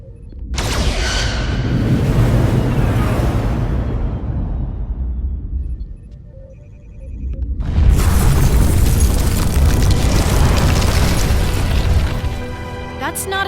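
Starship weapons fire and explosions in the Star Trek Resurgence game: sustained loud booming blasts that build, ease off briefly into a quieter lull, then erupt again in a second long roaring barrage.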